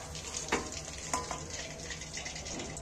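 Pakoras fry in oil with a continuous soft sizzle and bubbling, a couple of brief utensil clicks punctuating the steady hiss at moderate level.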